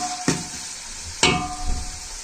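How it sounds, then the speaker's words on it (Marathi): Tomatoes fry in a pan until soft for a chicken dish, giving a steady sizzle broken by two sharp scraping stirs of a spatula, close up with no talk. "टॉमॅटो आहेत ना ते थोडेसे नरम होईपर्यंत शिजवून देऊया"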